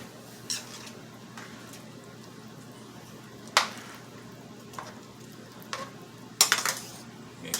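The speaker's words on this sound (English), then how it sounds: "stir your pot" Spoon scraping and clinking around a pot of pelau, intermittent sharp knocks over a low steady sizzle, fairly close and without talk.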